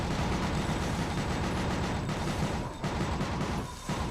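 Dense, continuous gunfire and explosive bursts from the action video game Gungrave, loud and unbroken for the whole span with only brief dips, no voices over it.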